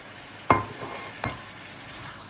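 Clams and chopped green onions being stirred in a pan: two distinct clinks of a utensil against the pan, the first louder, over a quiet background, with no talking.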